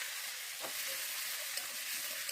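Fried okra and fried potatoes go into a spice mix in a hot pan, giving a steady, bright sizzle with a brief stirring clatter, close and continuous with no talking.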